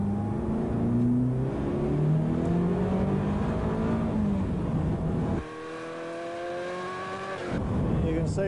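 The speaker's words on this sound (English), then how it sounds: "You can see with the acceleration of the car, and this is in wet conditions." A Ferrari F40 accelerates hard on a wet circuit lap, its engine note climbing through the gears with a sharp drop at a gear change before rising again, close and loud.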